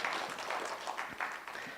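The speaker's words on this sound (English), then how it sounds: "Let us give a clap to all of us for that effort." Audience applauding at the launch of a university's annual research week, a steady wash of many hands clapping together that holds throughout before tapering slightly at the end.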